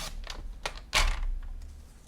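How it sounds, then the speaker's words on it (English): One inch is cut off the end of a sheet of paper for a handmade card, giving a few short, crisp snipping and sliding sounds up close, with the loudest cut near the middle and no talking. "Okay, then I'm going to cut 1 inch off this end"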